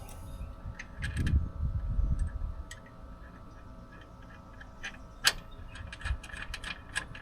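Metal bolt being hand-tightened during an IRONMAN4x4 2.5–3 inch heavy duty lift install on a 3rd gen Toyota Tacoma, giving soft ratcheting ticks and small metallic clicks with a few low knocks, close up and fairly quiet.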